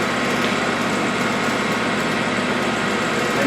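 A milling machine runs its first program, with a steady mechanical hum and whir holding at a constant level throughout and no talk over it.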